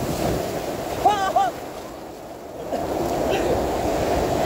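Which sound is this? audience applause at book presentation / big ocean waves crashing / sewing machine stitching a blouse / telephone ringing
big ocean waves crashing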